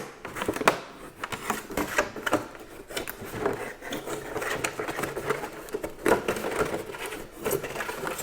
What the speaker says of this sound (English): And we're just gonna cut straight around the container.